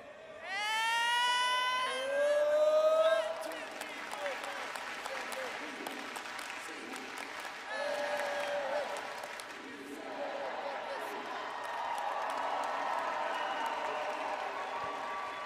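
At a UCLA student-athlete graduation celebration, a rising whooping cheer opens before the crowd breaks into the A-clap, with sharp rhythmic claps giving way to sustained applause and voices talking over it.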